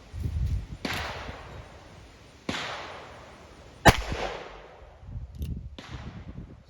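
Gunshots from a 5.5 inch Remington revolver firing soft cast hollowpoint handloads, four sharp reports spaced a second or two apart, each with a decaying echo, plus a few faint handling noises.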